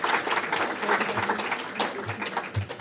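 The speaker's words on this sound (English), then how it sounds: "if we can give our speakers a round of applause" Audience applause after speakers at a medical symposium session, a sustained wash of clapping from a room of people, fairly even in loudness throughout.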